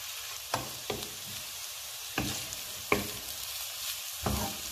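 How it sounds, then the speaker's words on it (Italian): Artichokes sauté over high heat for a savory pie, a soft steady sizzle broken by several sharp scrapes and clacks as they are stirred or tossed in the pan, close and fairly quiet with no talking. "A fiamma alta, mescolando o saltando di tanto in tanto, lasciamo cuocere i carciofi per 5 minuti."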